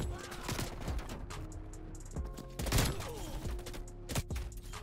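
Video game gunfire: rapid, sharp bursts of shots in quick clusters, with mechanical clacks and reverberant echoes between them, moderately faint and with no voices over it.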